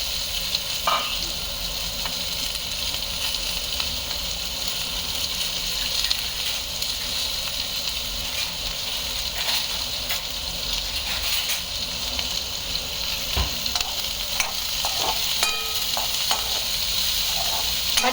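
Chopped vegetables stir-fry in a hot pan seasoned with cumin seeds and asafoetida, giving a steady close sizzle and hiss with occasional spoon scrapes and stirring clatter throughout, with no talking.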